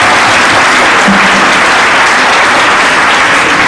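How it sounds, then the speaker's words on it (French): A large audience applauds steadily and loudly at a speech event for World Children's Rights Day, with dense continuous clapping filling the whole stretch. "je me fais le plaisir d'entendre vos applaudissements pour Abrana Bouffard"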